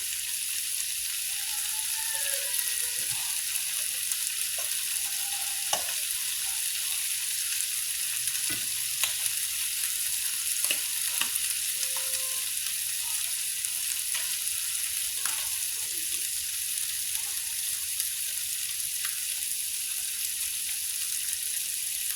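Chicken liver fries in a pot for a Jamaican breakfast, giving a steady bright sizzle throughout, with scattered small pops and occasional clinks of stirring, and no voices.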